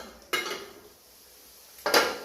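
A metal lid is lifted off a pan of frying beef in a home kitchen, making two short, bright clanks about a second and a half apart, with quiet between and no voices.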